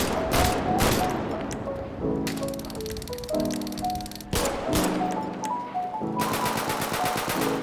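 Custom gunfire effects in the FiveM mod for GTA V play as rapid automatic bursts and single shots, loud and close. Several different weapon sounds follow one another with no talking.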